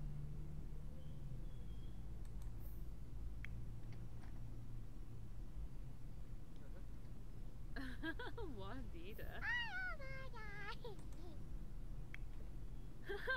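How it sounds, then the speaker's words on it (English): A cat meows in The Sims 4, a short wavering cry in the middle of quiet household game sounds and low background hum. "Kitty cat made a noise"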